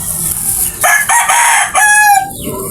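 A red kelso gamefowl rooster, bred from SBR and white kelso lines, crows loudly and close by in a drawn-out call with a rising, stretched final note, over faint background noise.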